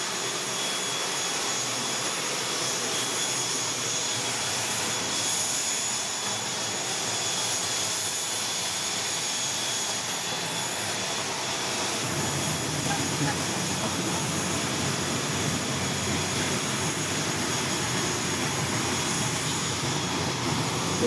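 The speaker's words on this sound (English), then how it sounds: "These propeller-driven planes are very, very loud when you're outside." Propeller-driven airplane engines heard from outside on the ground near Komodo Island, a steady loud droning roar that swells and thickens partway through, with no talk over it.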